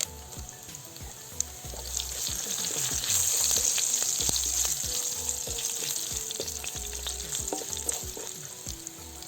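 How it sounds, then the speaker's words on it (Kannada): Garlic, asafoetida and curry leaves sizzle steadily in hot oil in a pan for coconut sambar, with occasional clinks and scrapes of stirring over a continuous close frying crackle, growing slightly louder midway; no one speaks. "ಬೆಳ್ಳುಳ್ಳಿ ಸ್ವಲ್ಪ ಕೆಂಪಾಗಬೇಕು, ಸ್ವಲ್ಪ ಇಂಗು, ಒಂದು ಕಡ್ಡಿ ಕರಿಬೇವು ಹಾಕ್ತಾಯಿದ್ದೀನಿ"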